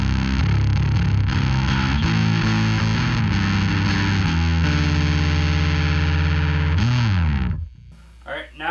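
Bass guitar played through a Darkglass Tone Capsule with the bass boosted, loud distorted sustained notes shifting in pitch over several bars, then cutting off abruptly near the end into near silence.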